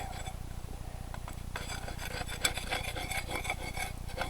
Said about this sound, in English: This stuff I'll scrape off into the bottom of the trench